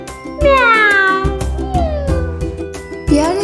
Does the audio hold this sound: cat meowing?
yes